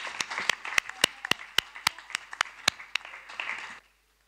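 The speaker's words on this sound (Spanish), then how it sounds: "simplemente creo que nos merecemos un aplauso todos por el esfuerzo que pusimos" A handful of people clap at a public hearing session, with sparse, distinct claps in an uneven rhythm, close and fairly crisp, ending abruptly after a brief flurry.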